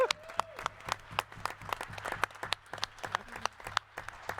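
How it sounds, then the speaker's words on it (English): A small audience at an award ceremony claps for the winners on stage, sparse distinct claps at moderate distance, fairly quiet and steady for a few seconds. "Let's have a little round of applause here on stage for them."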